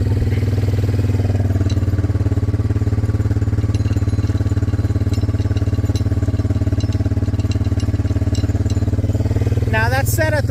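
A four-wheeler ATV engine runs steadily and loudly close by on a farm, a constant buzzing drone lasting about ten seconds, with a brief rising whine at the very end.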